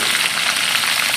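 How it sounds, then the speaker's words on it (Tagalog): Pork pieces sizzle steadily in a pan for pork steak with oyster sauce, a dense, even frying hiss close up with no talk. "Balik natin ang ating nasir na pork sa ating kawali."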